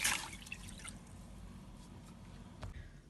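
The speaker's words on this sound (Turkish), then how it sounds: "Ve 2 su bardağı suyumuzu döküyoruz." Water for a lemon sauce pours into a pot, opening with a brief splashy gush and then settling into a soft trickle with drips and liquid sloshing, quiet and close by.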